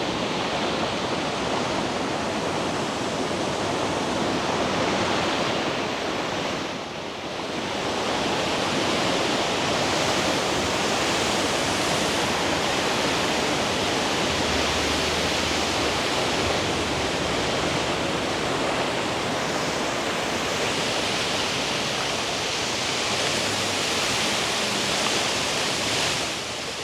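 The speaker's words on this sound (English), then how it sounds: "Water." Loud, continuous rushing water on the Smiths Falls Heritage Trail in Ontario, Canada, a broad steady roar like a nearby cascade, with a brief dip before resuming unchanged.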